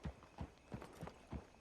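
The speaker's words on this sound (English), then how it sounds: "Get on the horse when you're ready." Horse hooves clip-clop at a steady walking pace in Red Dead Online, five distinct close thuds about every third of a second, with no other sound.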